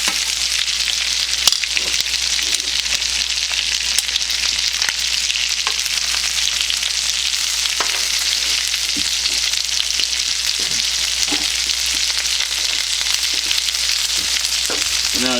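Maple butter salmon getting a final sear in a hot pan, a loud, unbroken sizzle holding steady throughout with faint crackles and no talk.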